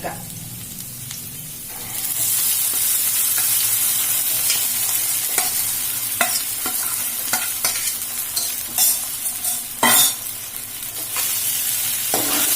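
Sago frying in a pan with curry leaves for upma, a loud continuous sizzle that swells after a moment, with spatula scrapes and stirring clatter breaking through at intervals.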